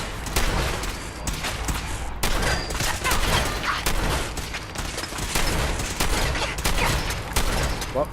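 Rapid, repeated blasts of a combat shotgun in the video game Fallout 4, loud booming shots in quick succession amid other gunfire, with a faint voice underneath.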